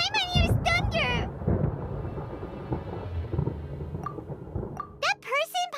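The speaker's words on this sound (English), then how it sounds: "Paimon hears thunder!" Low, rolling thunder rumbles through a stormy scene in the video game Genshin Impact, a sustained deep roar lasting several seconds between stretches of character dialogue.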